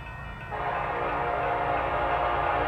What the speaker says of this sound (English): a short local just went by eastbound on track two and stack train westbound